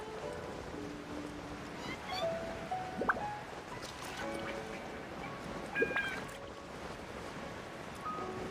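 A seal-like creature in the video game Genshin Impact gives short chirping, mewing calls scattered over a soft background of waves and wind, faint and distant-sounding.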